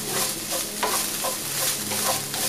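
Vegetarian meat floss is stirred in a pan, with quick scraping strokes repeating over a soft, continuous sizzle.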